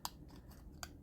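Scissors snipping through paper for a fussy cut, two quiet, crisp snips about three-quarters of a second apart with faint rustling between them.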